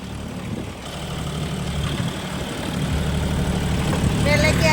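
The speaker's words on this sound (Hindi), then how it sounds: "तो ऐसे चला रहे हैं हम ट्रैक्टर। हमारा ट्रैक्टर चल रहा है" A John Deere tractor engine runs in a farm field, holding a steady low mechanical hum that grows gradually louder toward the end.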